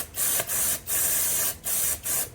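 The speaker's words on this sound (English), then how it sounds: "I'm going to go ahead and clean this surface off a little bit with some brake clean" Can of brake cleaner sprayed onto a surface, four short hissing bursts in close succession with brief gaps between them, loud and near, no talking.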